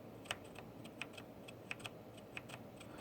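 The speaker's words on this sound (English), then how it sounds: "Maybe you can hear the button press." Key presses on a Rosewill keyboard with Cherry red switches, faint soft clicks in an irregular sequence of about a dozen taps, close to the microphone with no talk.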